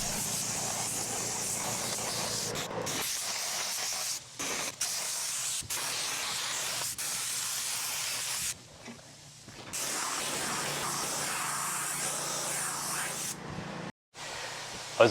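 A spray gun lays a second coat of 2-pack paint in a workshop, producing a close, loud airy hiss in long sustained passes broken by short pauses between strokes.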